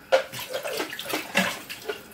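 Water splashing and pouring into a cooking pot while making fried rice, a short run of gurgling bursts and splashes close by, with no talking.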